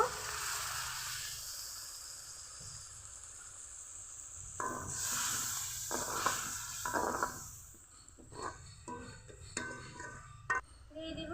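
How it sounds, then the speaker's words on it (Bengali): A little water goes into a pan of fish-oil curry (macher tel) with turmeric and chilli powder, setting off a brief hissing sizzle that fades and gives way to soft spoon clinks and stirring. "এখন অল্প করে জল দিব"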